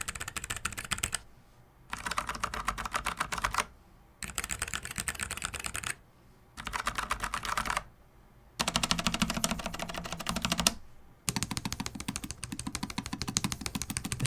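Typing on low profile mechanical keyboards from Azio and Logitech, rapid dense clicking of key switches in bursts of a second or two separated by short pauses, close and clear.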